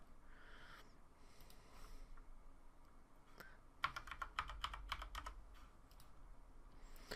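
A short password is typed on a computer keyboard, a quick burst of about a dozen crisp keystrokes in a quiet room after a few faint earlier taps.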